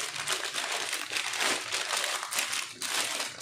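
A polythene sheet wrapped around a Gigabyte Z490M motherboard crinkles continuously as it is handled, a close, bright rustling that swells and dips.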